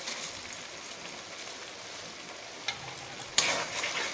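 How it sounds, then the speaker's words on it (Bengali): Spice paste for chilli chicken stir-frying in a pan, a steady soft sizzle with faint scraping stirs and a sharper clatter near the end, no voices. "মশলাটা ভালো করে কষানো হয়ে গেছে"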